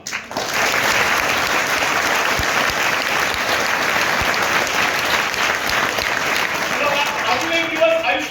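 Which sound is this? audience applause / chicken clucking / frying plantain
audience applause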